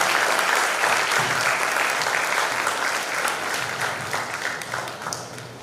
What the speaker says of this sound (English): I think sir deserves a louder round of applause